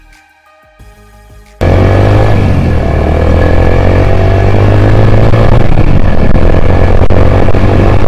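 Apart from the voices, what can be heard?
Yamaha YBR-Z motorcycle engine revving during test drive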